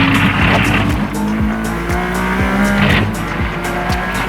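A sports car, pricier than an ordinary Ferrari and not road-legal, is driven hard on a race track. The engine roars loudly and close, its revs climbing and dropping through repeated gear changes.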